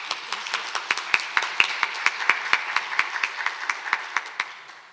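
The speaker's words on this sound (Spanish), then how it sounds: "La recibimos con un fuerte aplauso a Teresita." Applause from an academic audience at a university event in Arequipa, Peru, a short burst of rhythmic, fairly faint hand clapping from a small group, the claps falling at a steady even pace.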